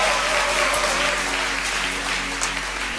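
A congregation at a church service claps and acclaims, a loud, steady burst of many hands that stays dense throughout and fades slightly at the end.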